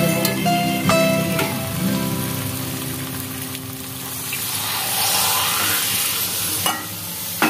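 Water is poured into a hot pan of spiced potatoes for aloor dom and begins to simmer, with a hissing sizzle, some stirring and pan clatter, then a softer bubbling seethe.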